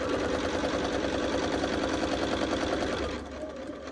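Sewing machine stitching through layers of quilt fabric, a fast steady mechanical chatter close by that slows and stops near the end, no talking.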